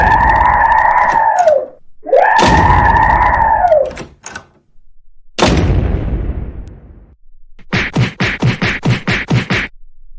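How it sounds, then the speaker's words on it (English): An animated cartoon mixes screaming with a loud door slam and echoing crash, then a fast series of repeated banging thuds, all loud and close. "stop slamming doors, now."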